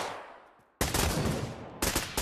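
Shotgun fire in the Pavlov VR shooter during a search and destroy match: two sharp, loud blasts, the first sustained with a rattling tail, the second shorter, following a brief quiet lead-in.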